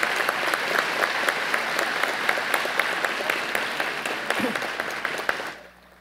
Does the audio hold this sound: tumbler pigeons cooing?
no